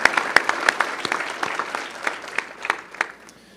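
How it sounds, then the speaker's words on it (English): Applause from a business breakfast audience in Tinley Park honoring the mayor, a steady patter of many hands with a few sharper nearby claps, fading slightly toward the end. "How about one more round of applause for Mayor Glatz and everything that's going on in Tinley Park?"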